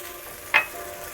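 Vegetables frying in spices in a pan for dudh shukto, giving a steady soft sizzle with one brief sharp crackle midway and no talking.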